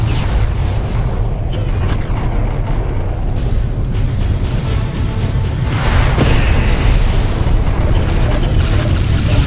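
Bombs detonating in space combat in Freespace 2, a dense continuous roar of heavy booming blasts filling the whole stretch, loud and sustained with a swell of added impact near the middle.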